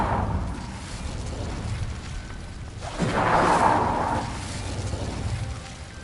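An Incendio fire spell cast in Hogwarts Legacy: a rising whoosh that swells into a fiery burst, heard alone over a low game background.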